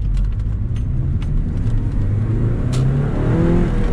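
Porsche 944 Turbo engine pulling hard under boost, a deep, loud rumble that climbs steadily in pitch as the car accelerates, heard from inside the cabin with no talk.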